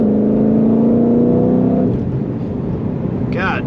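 A Ford Mustang Shelby GT500 with a dual-clutch transmission accelerates hard, its engine note climbing steadily for about two seconds before settling into a lower rumble, with talk over the top.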